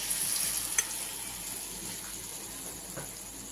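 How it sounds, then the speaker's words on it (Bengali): Battered stuffed kakrol, a spiny gourd, frying in oil, giving a soft, steady hiss with a few light crackles. It is fairly quiet and constant, with no voices. "এই যে আমি এইভাবে লাগিয়ে লাগিয়ে ভাজতে আরম্ভ করলাম।"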